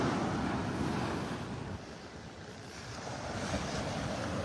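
Ocean surf rolls onto Vanderbilt Beach in North Naples in a steady, broadband wash, with churned-up water after a storm. Wind buffets the microphone, and the roar eases briefly midway before building again.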